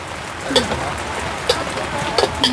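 Rain pattering steadily on surfaces at an outdoor oyster salad stall, a dense close hiss with a few sharper drips and clacks, while someone talks over it.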